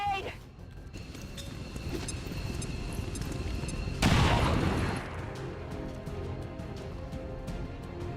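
A grenade explodes in XCOM 2 with a sudden loud blast partway through, rising above steady battle noise and a voice, then fading over about a second.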